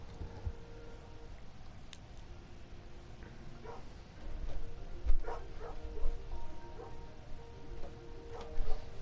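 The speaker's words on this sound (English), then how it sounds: "My dog's barking." A dog barks in short, scattered bursts at middling distance, with a few louder yips clustered in the second half over a quiet indoor background.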